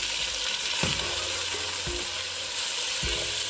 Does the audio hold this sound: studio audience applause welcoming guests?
no